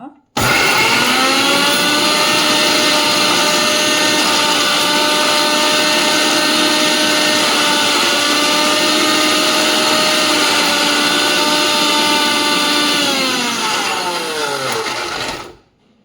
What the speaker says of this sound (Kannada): ಮಿಕ್ಸಿ ಜಾರ್ಗೆ ಹಾಕೋಣ, ನುಣ್ಣಗೆ ರುಬ್ಕೊಂಡು ಬರೋಣ.